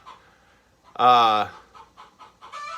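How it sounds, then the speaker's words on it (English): A chicken lets out one loud, squawking cluck, close by, surrounded by softer, scattered clucks and faint murmurs before and after. "That chicken is driving me crazy."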